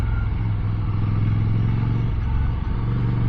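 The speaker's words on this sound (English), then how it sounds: "Hear that engine going." A Ducati Scrambler motorcycle engine drones steadily at a constant pitch, loud and close, going down gears on a twisty road, with a brief dip near the end.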